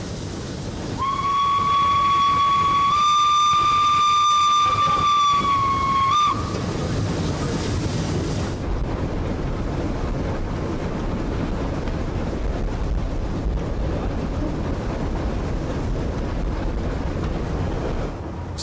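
A steam locomotive running on the railway at speed sounds a long, loud, steady whistle for several seconds, then a heavy rumbling roar of wheels and steam carries on close by.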